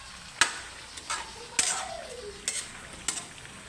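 Chop suey simmering in a pot while a spoon stirs it, giving several sharp clinks and scrapes against the metal over a low bubbling sizzle.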